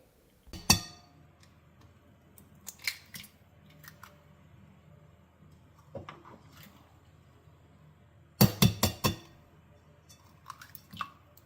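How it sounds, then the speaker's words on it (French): Eggs are cracked into a mixing bowl for a browkie batter, giving sharp close taps and clicks in two clusters, one early and a denser burst of several quick knocks later, with faint handling noises between and no talking. "On commence par casser les œufs."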